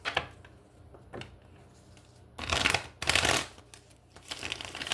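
Tarot cards are shuffled by hand in bursts of crisp riffling and flapping, with two louder passes in the middle and softer card handling before and after, close to the listener.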